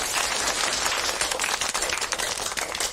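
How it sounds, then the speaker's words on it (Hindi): A group in a school setting claps for a student, a dense, continuous patter of many hands at close range with no talking over it. "चलो, उसके लिए तालियां बजाते हैं।"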